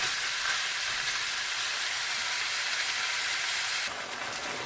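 Curry ground beef and potatoes brown in a pan, giving a loud, steady, close sizzle that runs unbroken from start to finish, easing slightly near the end.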